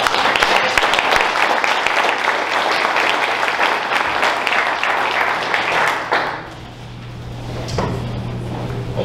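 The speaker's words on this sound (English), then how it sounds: "Let's give these a round of applause." Audience applause at an investor meeting, with loud, sustained clapping that cuts off sharply after about six seconds into quieter room noise, a soft knock, and faint murmuring.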